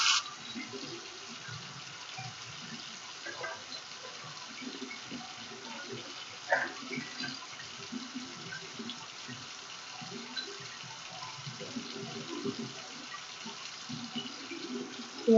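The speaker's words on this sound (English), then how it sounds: "And then I'm going to take my container and rinse it out." A tap runs water into a sink while a container is rinsed out, a soft continuous splashing with irregular gurgles and a few clinks, fairly quiet and without talk.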